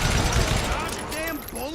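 Rapid gunshots from a Call of Juarez Gunslinger firefight, a dense loud burst of overlapping shots with ringing ricochet-like tails, mixed with game voice chatter.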